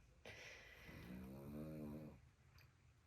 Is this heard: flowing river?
no